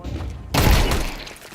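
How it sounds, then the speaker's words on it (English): A flashbang grenade detonates in a video game, a sudden loud, sharp blast after a brief lull that then fades quickly. "Throwing a flashbang."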